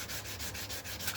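Wet sandpaper scrubs across the finish of a Goldtop Les Paul guitar in quick, rhythmic back-and-forth strokes, close and steady, with no voices.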